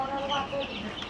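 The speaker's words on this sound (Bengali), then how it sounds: "বাচ্চাগুলো 3 দিন বয়সী ফার্মি মুরগির বাচ্চা।" Three-day-old broiler chicks peep in a steady, faint chorus of overlapping high chirps.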